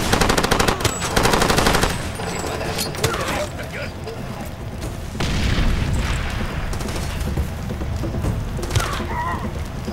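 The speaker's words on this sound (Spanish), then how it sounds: "Está disparando" Bursts of automatic gunfire and booms from the video game Far Cry 2, loud and dense in the first two seconds, then heavy continuous rumbling with scattered shots through the rest, no talk over it.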